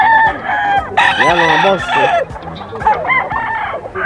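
Bull stag roosters crow loudly and close by at the Bocaue pet market, their calls overlapping with clucking, while someone speaks briefly at the start and again near the end.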